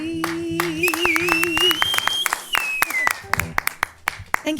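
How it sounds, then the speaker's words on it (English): Audience claps at a stage event, sharp irregular claps rising into brief applause alongside a sustained sung or whistled tone and some voices. "let's give a big round of applause"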